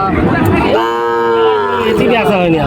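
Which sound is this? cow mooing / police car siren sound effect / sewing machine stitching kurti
cow mooing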